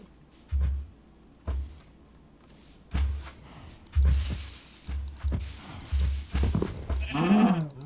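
Sheep bleat several times in Minecraft in short, separated calls against a quiet background, with a few thumping footstep-like sounds between them.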